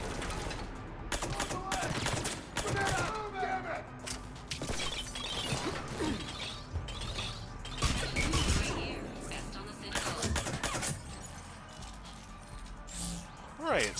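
Rapid video-game gunfire from Mass Effect 3 rattles in bursts throughout, with mechanical clatter and sharp impacts, while a player talks over much of it.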